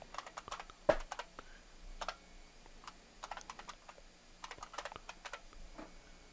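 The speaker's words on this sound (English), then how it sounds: "I'm going to type in a username and a password." Quick, irregular bursts of light clicks as a username and password are typed on a computer keyboard, close and quiet, with short pauses between groups of keystrokes and no talking.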